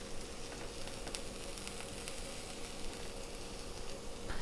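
Mushrooms and bacon with kimchi sizzle steadily in a pan as they rewarm, a soft continuous frying hiss with faint crackles throughout and no voices.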